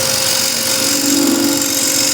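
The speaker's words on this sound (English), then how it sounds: "you want first a left corner in, and then you roll the scraper to the right" A 12 mil square end scraper cuts a turned hexagon plate on a running lathe, giving a loud, steady, even whirring rasp throughout.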